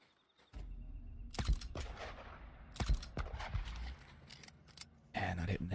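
Gunshots in the video game Days Gone, several sharp loud cracks spaced irregularly with short echoing tails, over low game ambience and a brief burst near the end.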